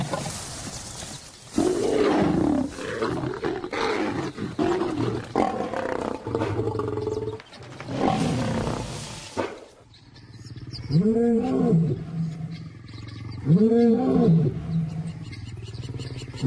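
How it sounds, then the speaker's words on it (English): Male lions give deep, throaty roars in the bush, first as a dense, rumbling chorus, then as two distinct, powerful roars a few seconds apart, loud and close. "as they roar their displeasure, the cubs scatter into the bush"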